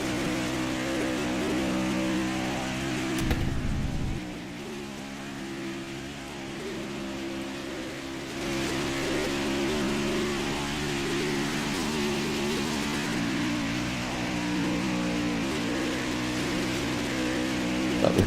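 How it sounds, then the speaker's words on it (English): Race car engines in a VRA Cup Series race drone steadily at speed, their pitch rising and falling as a continuous, layered roar with no talk over it. "pump up the music, the sweet music of these cars"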